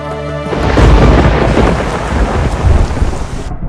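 A loud, deep roll of thunder breaks over steady heavy rain, rumbling for a few seconds before it fades, with the rain hissing throughout.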